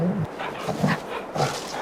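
Dog in Farming Simulator 22 near a brick dog house gives a few short yips and whimpers, moderately loud and mixed with background noise.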